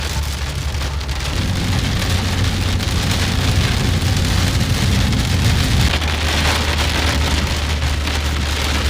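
Heavy rain and hail pounding down outdoors, a dense loud continuous patter and drumming that holds steady throughout, with a low rumble underneath and no talk.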